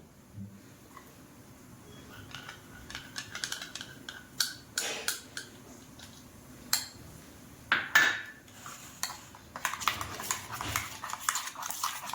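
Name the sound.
spoon scraping a bowl while filling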